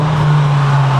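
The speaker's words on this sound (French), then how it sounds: "quand tu roules, ça fait le bruit d'un 7R" A tuned 540 hp Volkswagen Passat police car engine drones steadily while driving, a constant low hum with no change in pitch over one brief second.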